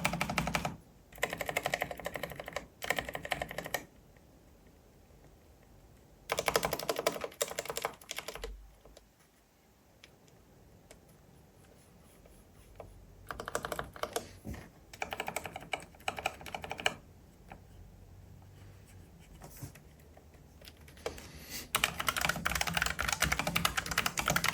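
Typing on a Logitech G515 LIGHTSPEED TKL wireless low-profile keyboard, a quiet close-up patter of key presses in several bursts separated by brief pauses, with no talking.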